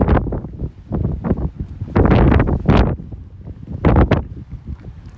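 Wind buffets the microphone at Fort La Latte in Brittany in loud, irregular gusts that rise and fall, with a rough roaring rumble and no voices.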